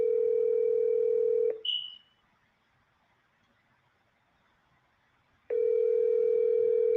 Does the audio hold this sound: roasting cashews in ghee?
no